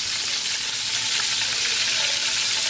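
Pork belly for lechon kawali frying in hot oil, a dense, steady close sizzle and crackle that fills the whole stretch without a break, with no voices.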